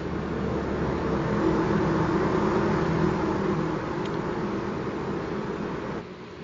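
Race trucks circulating under caution, bunching up behind the pace car before a restart, a steady broadband engine and road roar at a distance, fairly loud and constant, easing slightly near the end.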